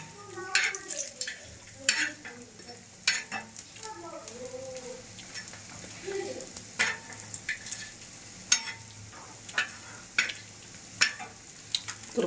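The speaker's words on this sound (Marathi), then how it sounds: "तर खोबरं आपलं चांगलं भाजायला लागलेलं आहे" Grated coconut roasting in a pan and being stirred, with soft crackling sizzle and repeated scraping strokes of a spoon against the metal, close and steady throughout.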